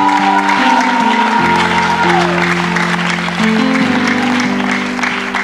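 A church congregation claps loudly and steadily throughout, the dense applause layered over sustained worship music during a service.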